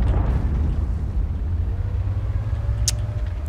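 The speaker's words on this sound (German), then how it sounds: "das ist der Luftangriff auf den Zug, okay." A low, sustained rumble of air strike explosions on a train in World of Tanks rolls on steadily, with a brief sharp crack near the end.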